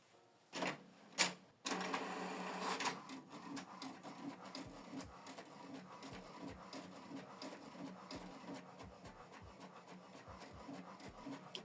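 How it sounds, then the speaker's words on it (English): An HP Deskjet 4130e inkjet printer prints a document: a few loud mechanical clunks at the start, then a steady whirring feed with rhythmic ticks and carriage shuttling, close and alone. "So the document is printing."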